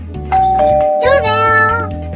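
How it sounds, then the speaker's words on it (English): Cartoon doorbell sound effect: two clear ringing ding-dong tones, loud and close, standing alone without talk. "Doorbell!"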